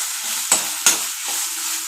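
Long eggplant fries in a pan with a soft continuous sizzle broken by two sharp knocks of the spoon or spatula against the pan as it is stirred, close and with no speech.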